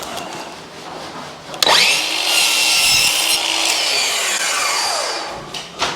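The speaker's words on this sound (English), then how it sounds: "So here we are cutting a piece of wood trim" A power tool cuts through a piece of wood trim with a loud, shrill grinding rasp that starts abruptly and holds steady for several seconds before easing off.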